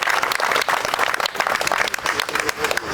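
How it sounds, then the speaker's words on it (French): A crowd applauds at a ribbon-cutting inauguration in Thenon, honouring a young girl who held the ribbon cushion. The clapping is dense and steady, close and loud, with scattered sharper claps throughout and no talk over it. "On peut l'applaudir, cette belle demoiselle."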